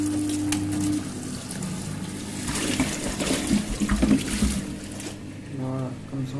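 Water rinses the drum of a Brandt washing machine, a steady close splashing and rushing that runs the whole time, with a voice talking faintly underneath.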